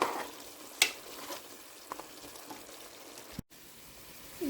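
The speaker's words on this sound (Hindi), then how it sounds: "चिकन अभी पक रहा है, मीडियम आंच पे मैं पकाती हूँ।" Chicken pieces cooking in a pan over medium heat for a homemade cauliflower and chicken dish, giving a steady soft sizzle with a few sharp clinks and scrapes of stirring, heard close and alone.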